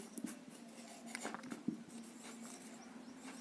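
Scratchy pen strokes write out set builder notation during a maths lesson on sets, a few short, close, irregular scribbles over a faint steady hum, with no talk.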